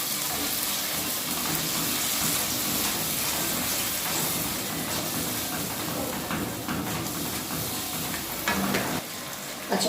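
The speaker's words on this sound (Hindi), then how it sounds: "आधा कप दही है, ये मैं शामिल कर दूँ।" Yogurt being stirred into cooked tomato masala in a pan for a potato and egg curry, a steady wet scraping and sizzling texture running continuously close up with no talk.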